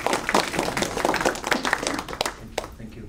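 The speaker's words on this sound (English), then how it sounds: "please help me give a round of applause" An event audience claps to welcome guests, the applause dense and lively at first, then thinning into scattered claps before fading, with a voice briefly audible near the end.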